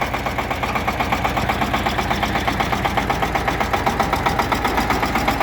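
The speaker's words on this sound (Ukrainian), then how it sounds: "Трактор одноциліндровий," A 2024 Shifeng 350L single-cylinder tractor idles nearby with a steady, even thumping pulse, alone and without speech.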